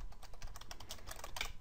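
Quiet, quick keystrokes on a computer keyboard as a name is typed into an Outlook 2010 email setup form, a brisk uneven patter of clicks with no speech.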